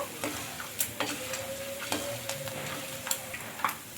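Sago (tapioca) pearls frying in hot oil give a steady crackling sizzle, with sharp pops and stirring clicks scattered throughout and no voices.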